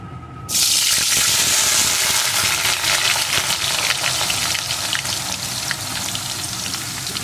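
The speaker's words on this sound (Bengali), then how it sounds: "এখন তেলটা গরম হয়ে গেছে এখন এর ভিতরে দিয়ে দেবো কয়েক টুকরো আলু" Potato pieces dropped into hot mustard oil for a crab curry burst into a loud, close sizzle that then settles into steady crackling frying.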